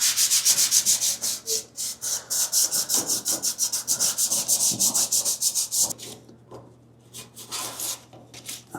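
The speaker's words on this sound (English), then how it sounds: "I'm just going to go around, sand all the spots" Rapid rhythmic sanding strokes over welded patch areas on a car body, loud and close with a steady back-and-forth rasp, then pausing and resuming in slower, lighter rubs near the end.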